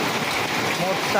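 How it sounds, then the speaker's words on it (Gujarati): Large hailstones and heavy rain come down together in a thunderstorm with lightning, a dense, steady, close patter of impacts filling the whole moment, with a faint voice just audible beneath. "મોટા કરા પડે છે, મોટા."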